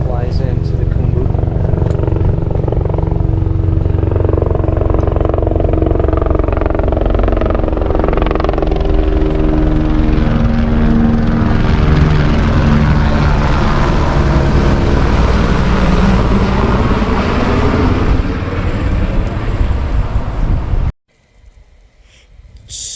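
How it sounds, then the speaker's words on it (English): Helicopter flying into the Khumbu valley in the Everest region, loud close rotor thrum and turbine whine holding steady for about twenty seconds before cutting off abruptly. "So another heli flies into the Khumbu"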